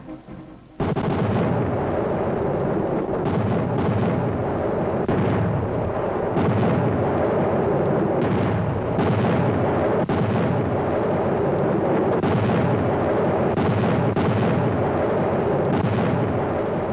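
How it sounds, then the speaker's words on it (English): Continuous heavy rumbling of an artillery barrage, deep booms blending into a dense, unbroken roar that persists without a break. "The barrage thuds on into the night."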